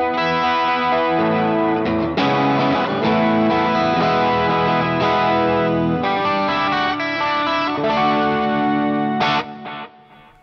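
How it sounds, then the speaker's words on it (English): A 12-string guitar emulation played through a Fractal FM9 modeler, shimmering chorused and slightly driven strums ringing in rich sustained chords for about ten seconds, then cutting off near the end. "On channel B, I've also got a 12-string emulation here."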